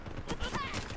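Call of Duty: Black Ops 3 multiplayer gunfire crackles in a short, dense burst of rapid shots throughout, moderately loud with game noise around it.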